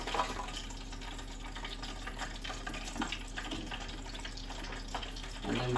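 Battered cod frying in scalding hot fat, giving a steady, close, crackling sizzle that holds evenly throughout with a brief louder swell at the end.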